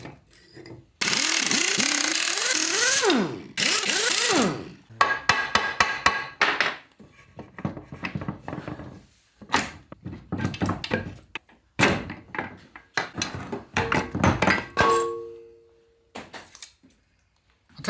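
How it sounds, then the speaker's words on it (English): Whitworth sockets and a Whitworth spanner clank and knock against a Land Rover Series gearbox in a workshop, with loud metallic ratcheting bursts early on, then a run of sharp taps, clinks and scrapes at close range. "it's an opportunity to use my selection of Whitworth sockets and my one and only Whitworth spanner"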